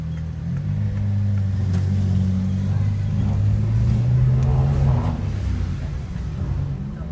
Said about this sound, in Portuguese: McLaren Senna Superleggera Mark 2.